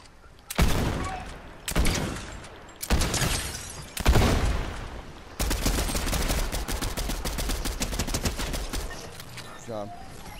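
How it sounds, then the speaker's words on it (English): Fortnite gunfire: several sharp, close bursts of shots in quick succession, then a sustained rapid string of automatic fire, loud, with players talking over parts of it. "There's gunfire every which way."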